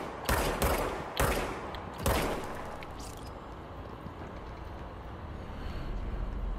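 An enemy's gun fires in the video game Control: three or four sharp, loud, close shots in quick succession, spaced about a second apart, then fading into a low rumbling background.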